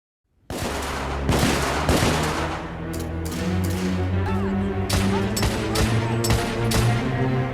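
Dense, sustained gunfire from the third-person shooter The Order: 1886, with rapid overlapping shots, heavy booms and crashes that start abruptly and continue loud and close in a chaotic battle.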